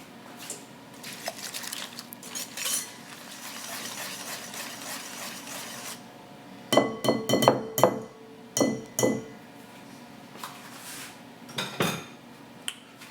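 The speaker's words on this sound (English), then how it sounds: "Now we're going to whisk this to combine." A whisk beats vanilla extract, an egg and an egg yolk in a bowl, first as a soft, fast rattle, then as louder rhythmic clinks against the bowl in several short bursts, with no talking.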